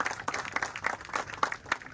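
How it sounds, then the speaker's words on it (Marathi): An audience applauds a prize winner at a town marathon awards ceremony, giving a short burst of scattered hand clapping at moderate distance with no talk over it. "सर्वांनी जोरदार टाळ्या वाजवा."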